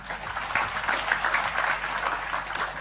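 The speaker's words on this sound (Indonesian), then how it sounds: "Tepuk tangan untuk para petanya." Audience applause at a discussion gathering in Indonesia, a soft, somewhat distant wash of clapping held at a steady level.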